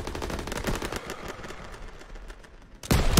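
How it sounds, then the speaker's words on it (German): Bursts of machine gun fire in Call of Duty WW2, a rapid rattling stream of shots that thins out toward the end before a sharp, loud final burst. "MGs, open fire!"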